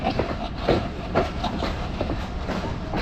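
A passenger train in Bangladesh rolls on after leaving Natore station toward Abdulpur, its wheels giving a steady rumble with repeated clickety-clack beats at the rail joints, heard from inside the carriage.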